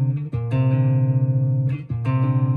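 Close-voiced guitar chord built from stacked whole steps, strummed three times in quick succession, each chord ringing with sustained, slightly beating tones, close and clear with no talking.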